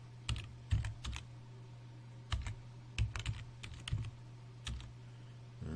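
Irregular bursts of typing on a computer keyboard, quiet clicks in short clusters with pauses between, close and faint, no voices.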